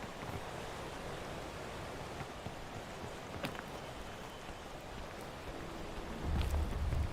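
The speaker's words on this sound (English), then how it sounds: "A waterfall. Don't get hit." A waterfall in a video game, a steady broadband rush of falling water that holds an even level throughout, with a few faint clicks on top and a low thump near the end.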